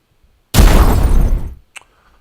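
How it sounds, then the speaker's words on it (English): A single loud, crunchy video-game explosion as a flying buzzer is destroyed, bursting out and decaying over about a second, followed by a brief faint electronic blip. "Flying buzzer destroyed explosion. Here's our first explosion."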